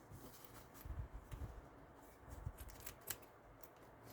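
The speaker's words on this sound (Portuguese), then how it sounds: "posso cortar aqui esse excesso de zíper dos dois lados" Scissors snip through the excess zipper tape on both sides of a small handmade coin purse, a few quiet close cuts with soft handling noise between them.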